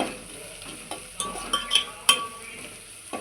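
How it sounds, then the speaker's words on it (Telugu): Onions frying in oil with salt, a soft steady sizzle broken by a few sharp scrapes and clinks of a stirring spoon against the pan, close and without talk. "ఆనియన్స్ వేగేటప్పుడు సాల్ట్ వేస్తే ఆనియన్స్ తొందరగా వేగుతాయి,"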